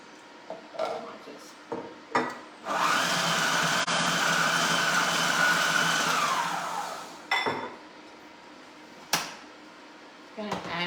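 A Magimix Cook Expert food processor pulsing cauliflower pesto, one loud sustained whirring run of about four seconds with brief clatters and bumps before and after.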